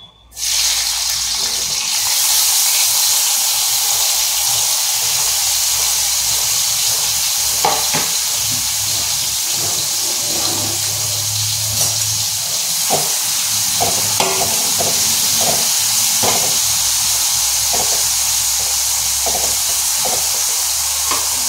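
Bitter gourd (karela) dry-roasting without oil in a pan over a low gas flame gives a steady, loud hiss and sizzle throughout, with scattered light scrapes and taps of stirring, close by and without speech.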